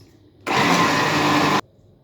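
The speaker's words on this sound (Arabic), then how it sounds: "وهنضرب في الخلاط" A kitchen blender whirs loudly and steadily for about a second while blending garlic sauce (toum) with salt and milk, starting and stopping abruptly, with quiet background before and after.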